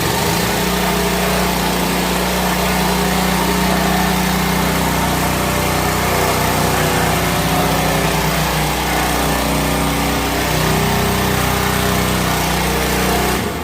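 A small 100 cc, 3 HP petrol engine on a floor brush cleaning machine runs close by with a steady, loud buzzing drone and slight shifts in pitch.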